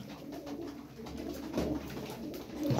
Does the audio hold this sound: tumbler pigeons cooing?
yes